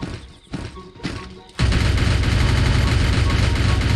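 Video game gunfire: a few scattered thumps, then a sudden loud, sustained burst of rapid automatic fire that continues unbroken to the end.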